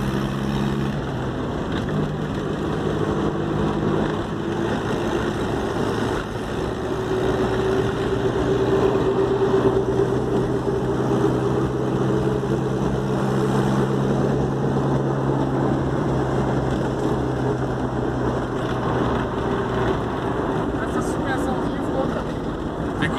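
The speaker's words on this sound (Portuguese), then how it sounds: "Mas ele tá fazendo sempre porque ele tá querendo amaciar o motor só, Gustavo" Turbo car engine idling steadily to break in the motor at a car event, a continuous low droning rumble, with people talking nearby over it.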